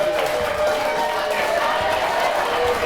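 A studio audience at a morning talk show claps and cheers steadily as one dense, continuous wash of applause from a full house, loud and unbroken from start to finish.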